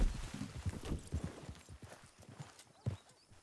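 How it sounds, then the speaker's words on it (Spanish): Horse hooves clip-clop at a steady walking pace in the video game Red Dead Redemption 2, fairly close and moderately loud, with a faint snort or whinny and some low ambient rumble. "Delante hay caballo, creo."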